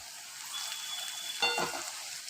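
Green chillies crackling in hot oil for a dhaba-style dal tadka, a steady close sizzle with a brief louder spit midway as more go into the pan.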